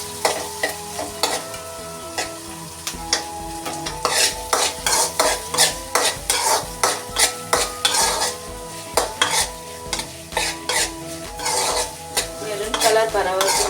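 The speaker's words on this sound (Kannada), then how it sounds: "ಈರುಳ್ಳಿ ಚೆನ್ನಾಗಿ ಫ್ರೈ ಮಾಡ್ಕೋಬೇಕು." Onion stirred and fried in a pan while cooking goat brain fry, steady sizzling under repeated rhythmic scrapes and clinks of a spatula against the metal pan, close and fairly loud with no talking.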